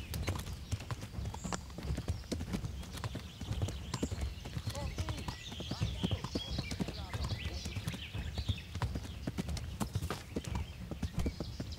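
Horse hooves clip-clop in a quick, steady rhythm in the video game Kingdom Come: Deliverance, fairly close and continuous, with a busy background and a hint of whinnying.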